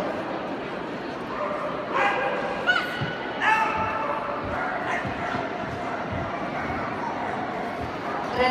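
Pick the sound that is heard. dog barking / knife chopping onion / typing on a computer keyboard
dog barking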